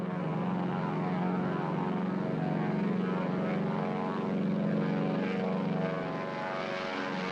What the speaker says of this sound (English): Comfortable roar of a big, heavy-duty piston engine.